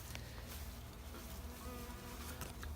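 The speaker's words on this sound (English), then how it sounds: "got a call this evening about bees in a birdhouse" Bees cluster inside a birdhouse in Las Vegas in the evening, giving off a steady, close buzzing hum that never stops, with no voices over it.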